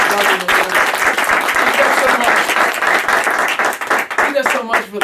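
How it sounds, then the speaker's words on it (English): Loud, dense applause from a church audience honoring a mentor, continuous clapping filling the room for about five seconds with a slight dip near the end. "Can we just give a round of applause?"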